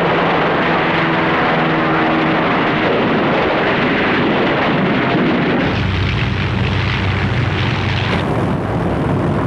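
Loud, continuous roar of Luftwaffe warplane engines during a bombing assault on Malta in 1941, a dense sustained drone that shifts in tone partway through.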